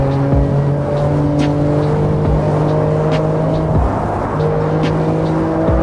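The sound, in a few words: BMW M4 Competition G82 driving fast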